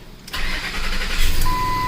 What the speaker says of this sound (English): Start engine and then press OK.